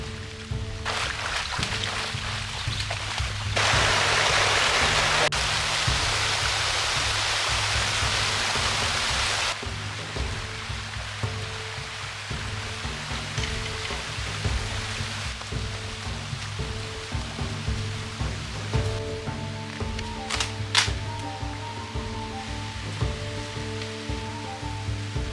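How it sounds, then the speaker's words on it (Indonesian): Steady broadband rush of a forest river stream flowing, continuous and fairly loud throughout, with a denser hissing stretch early on and faint intermittent knocks. "kita akan terus menyusuri aliran sungai ini sampai menemukan tempat yang cocok untuk membangun shelter"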